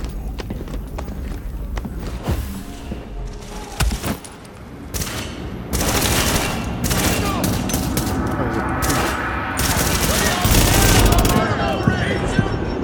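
Crossfire in The Division at the Russian Consulate: dense bursts of gunfire crackle and rattle throughout, growing heavier and more continuous in the second half, with voices talking now and then beneath the shooting.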